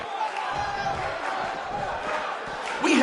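A large crowd roars steadily in a wrestling arena in the WWE 2K19 video game, a dense, continuous cheer with voices mixed in and a louder swell at the very end.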